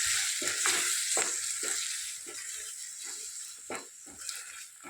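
Chopped tomatoes are stirred into a frying pan for egg tomato curry, and a soft, steady sizzle runs under repeated scraping strokes of a spatula at an uneven rhythm.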